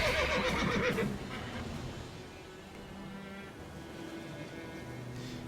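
A horse whinnies loudly at the start in The Witcher 3 video game, a shrill neigh lasting about a second, followed by quieter game ambience with faint hoof-like thuds.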